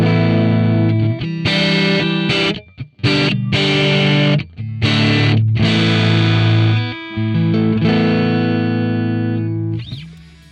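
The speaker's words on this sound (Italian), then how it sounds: "questo è un suono che noi otteniamo quando l'input drive per esempio è a 6" Crunchy distorted electric guitar through a Fractal FM3 amp model with input drive at 6, strummed chords ringing in several sustained bursts with brief gaps, loud and close with no talking.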